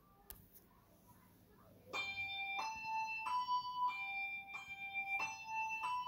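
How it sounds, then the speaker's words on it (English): A handbell in a children's musical rings out in a series of clear, sustained tones, about six strikes in a steady rhythm, following a soft tap at the start. "I waited for my turn to ring my bell."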